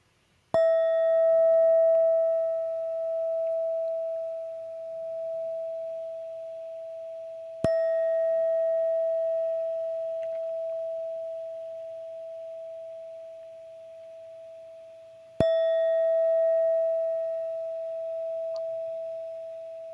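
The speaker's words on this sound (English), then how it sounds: "Listening to the bell." A clear bell rings three times at even intervals, each strike sustaining a long, pure tone that slowly fades before the next.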